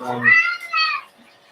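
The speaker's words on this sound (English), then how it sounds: "that's my cat." A house cat lets out two quick, clear meows close to the microphone, the second slightly shorter, in a quiet indoor room.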